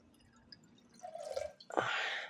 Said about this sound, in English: I can pour the water here